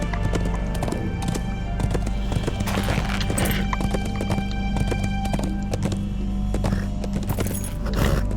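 Horse hooves clip-clop steadily in a riding gait on the way to Isengard in The Lord of the Rings Online, clear and continuous with an occasional whinny over a low ambient game drone.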